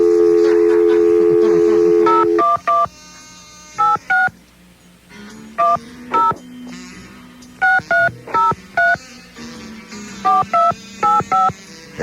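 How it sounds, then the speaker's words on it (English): Touch-tone telephone dialing: a string of short, crisp dual-tone beeps in irregular bursts, close and clear, following a steady tone at the start, with no talking. "I'm dialing him up."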